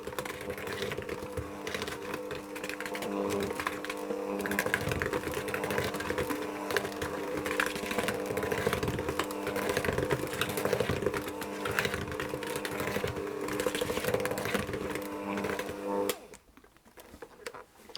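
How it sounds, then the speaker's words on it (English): Electric mixer running at low speed through lemon sandwich cake batter with half the remaining flour added, a steady continuous whir with a close mechanical buzz, stopping abruptly near the end. "mix it on low speed"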